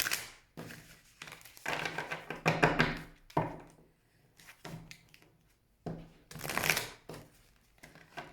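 Cards are shuffled in several bursts of riffling and slapping, loud and close, separated by short pauses.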